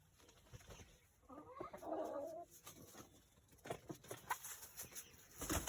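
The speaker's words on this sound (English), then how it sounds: "Mr. Rooster being Mr. Rooster. Chasing the girls around." Soft clucking and cooing from a rooster and hens at a chicken coop, fairly quiet, with a brief louder burst of fowl calls mid-clip as the rooster chases the hens, and scattered short clucks afterward.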